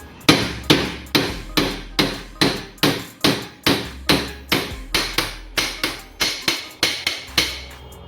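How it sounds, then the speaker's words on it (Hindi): A hammer drives a wheel bush onto an umbrella machine with about eighteen sharp, loud metallic blows in a fairly regular rhythm. Each strike rings briefly before the next, with no speech between them. "तो देखो मैं कैसे मार रहा हूँ हथौड़ी"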